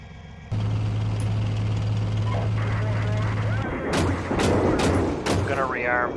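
Indirect artillery and mortar fire in the tank simulator Steel Beasts Pro lands as four or five sharp, loud impacts in the second half, following a steady engine drone, with a voice heard over it.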